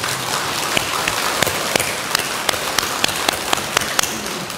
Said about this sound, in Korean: 그러면 이 대목에서 한번 또 박수를 쳐야 되죠